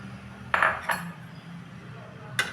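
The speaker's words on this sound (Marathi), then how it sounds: "असं ढवळत राहायचं आहे नाहीतर त्याच्यामध्ये गुठळ्या होतात" A spoon clinks against a pot while stirring custard mix into milk, with two or three bright metallic taps over a quiet background.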